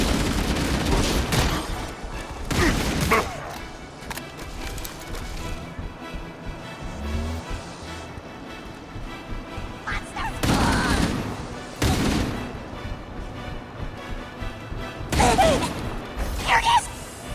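Bursts of battle gunfire in Halo: Campaign Evolved crackle in several loud volleys with rapid repeated shots, mixed with whooshes and impacts, over a steady combat din and occasional shouted voices.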